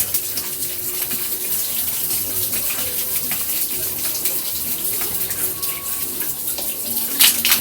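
Water from a tap runs in a steady, close rush while waist-length hair is rinsed, with faint splashing variations throughout.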